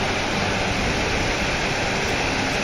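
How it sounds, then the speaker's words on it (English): Steady, loud broadband roar of a waterfall heard up close on a sunny day along an outback track, continuous and unchanging with no voices. "Here we are walking out on the waterfall."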